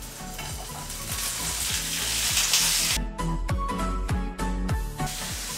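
Mushrooms, tomatoes and red and white onions sizzle steadily in a pot, a dense continuous frying hiss with a run of sharp stirring clicks and scrapes in the second half, close and fairly loud with no talking.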